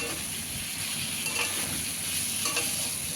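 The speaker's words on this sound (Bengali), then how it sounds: "তো এই যে দেখো ভালোভাবে কষিয়ে নেব।" Tomatoes and spices for gatte curry are stir-fried in a pan, with a continuous soft sizzle and faint scraping of the spoon stirring at a quiet, even level.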